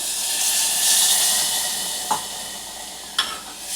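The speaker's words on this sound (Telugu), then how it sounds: "ఇవి ముక్కలు మునిగేంత వరకు వాటర్ పోసుకోవాలి ఇట్లా వాటర్ పోసుకోవాలి" A steady sizzling hiss from a pan of potato masala curry as water is poured in, fading slightly, then two brief knocks of a utensil against the pan, close with no voices.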